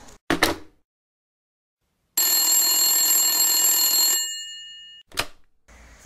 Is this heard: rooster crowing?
no